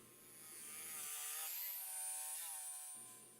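An old, struggling jigsaw rough-cutting through a wooden tabletop, a loud continuous motor whine with a reciprocating buzz that swells in the middle and eases off toward the end, heard alone.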